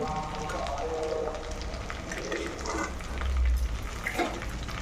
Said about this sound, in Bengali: তোমরা পটলের দোরমা বানাতে গেলে মুখটা প্রথমে বন্ধ করে তারপর তেলে ফ্রাই করবে